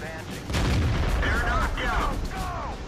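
A tank gun fires in World of Tanks, a heavy booming shot followed by a sustained rumbling roar and whistling, zipping tones from shells and effects, loud and close without speech.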